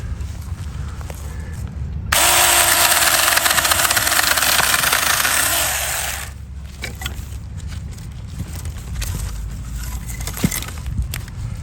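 Saker mini electric chainsaw cutting wood in one loud, close burst of high buzzing about four seconds long, easing off into quieter handling noise and background afterward.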